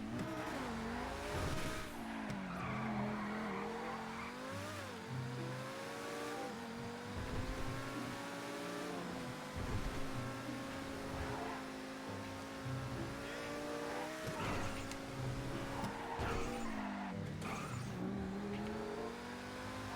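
A Progen T20 (McLaren P1) supercar in GTA 5 revs hard through gear shifts while its tires squeal and skid in long screeching slides. The engine stays loud and close throughout, with no talking.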